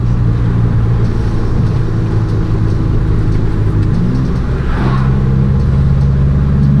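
A steady loud roar of road and engine noise from inside a moving car as a Toyota Corolla passes, a constant rumble throughout with a brief rising swell midway.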